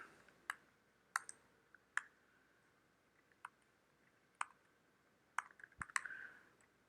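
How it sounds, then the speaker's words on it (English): Computer keyboard typing heard as sparse, faint key clicks spaced irregularly through a quiet room, then a quicker cluster of taps near the end. "I will stop typing here and begin explaining."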